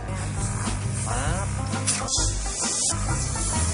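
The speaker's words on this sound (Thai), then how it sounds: "แล้ว ก็มีเครื่องเป่าลมครับเริ่มต้นครั้งแรกเลยนะคะ เราจะเป่าลูกโป่ง แค่ประมาณครึ่งครึ่งลูกนะคะ" An electric air pump blows steady hissing air into a long twisting balloon, a close, continuous rushing sound with brief squeaky rubbing, while someone speaks over it.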